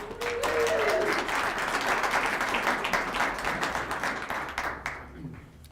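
An audience at an event introduction bursts into loud, sustained applause and clapping, with some crowd voices mixed in, tapering off gradually over several seconds.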